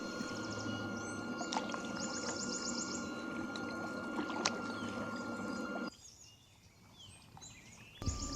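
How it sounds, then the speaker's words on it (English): A small electric kayak drive motor hums steadily over lapping water, then cuts out, leaving quieter water sounds before a brief clunk. "I'm happy the motor is powerful enough to push the boat forward"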